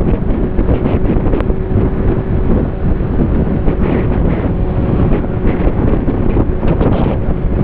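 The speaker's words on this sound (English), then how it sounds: "That was windy." Strong wind roars loudly and continuously against the microphone while riding the Isle of Man TT Mountain Course, a dense, blustery rumble with no pauses and no voices.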